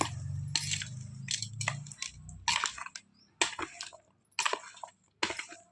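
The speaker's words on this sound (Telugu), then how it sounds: "తాలింపు వేసుకున్నాం కదా, ఇప్పుడు మొత్తం కలిపేసుకుందామండి." Mango pickle pieces are mixed with freshly tempered oil in a series of wet, squelching stirs and clinks, separated by short pauses, heard close up without any talking.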